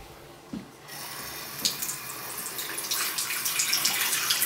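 A bathroom faucet runs steadily in a master bath with slab granite sinks, the water's broad hiss building after a brief quiet start and staying close and fairly loud.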